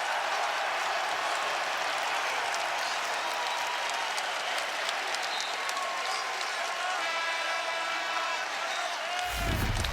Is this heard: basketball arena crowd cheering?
yes